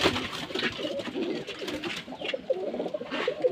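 Rajshahi Giribaz pigeons at a pigeon farm coo steadily, several birds overlapping in a dense, continuous murmur of low throaty calls close by.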